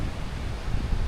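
Wind buffeting near the cloud-capped mountain top on Kamigan Island in the Philippines, a steady low rush and rustle with mic wind noise for about a second, no voices.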